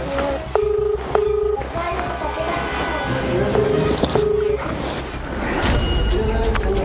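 A telephone is dialed, its keypad tones sounding as a series of short, evenly spaced beeps, some sharp and distinct, others softer, over a steady low hum with occasional faint background noise.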